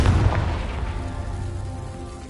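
A Confringo fire spell bursts in Hogwarts Legacy with a heavy, booming blast up front, then a rumbling roar that slowly fades away.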